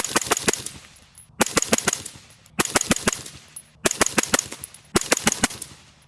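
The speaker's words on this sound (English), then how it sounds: "So we'll do 4-round burst." Five quick four-round bursts from a rifle fitted with a lightweight titanium 6mm suppressor, each burst a tight cluster of sharp, loud reports with brief ringing decay, separated by short pauses and no talking.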